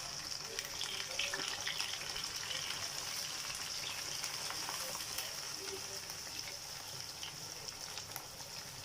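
Chopped chard frying with coriander and garlic gives off a soft, steady sizzle and hiss as it is stirred, quiet and continuous with no talking.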